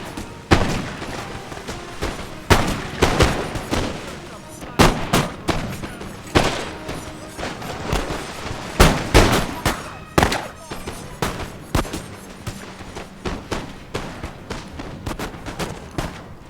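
Voltigeur light infantry fire musket volleys in the video game Napoleon Total War, a battle on the Amazon Confluence map: repeated sharp cracks and ragged bursts of gunfire, some close and loud, others scattered and overlapping, with no speech.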